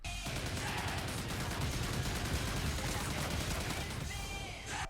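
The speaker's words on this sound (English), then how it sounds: "a minigun, which has 225 bullets to start with" A minigun in the video game Call of Duty: Ghosts fires a dense, unbroken stream of rapid shots for nearly five seconds, loud and constant from start to finish.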